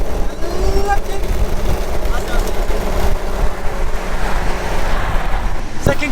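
An Audi S4 B6 pulls in third gear during a roll race against an Audi RSQ3, giving a loud, steady engine roar with road noise, heard from inside the cabin.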